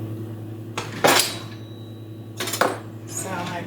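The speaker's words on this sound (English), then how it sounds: "Now get your pastry blender or 2 knives." A pastry blender and utensils clatter against a bowl while Irish soda bread is being mixed: two distinct clanking bursts about a second and a half apart, over a faint steady background hum.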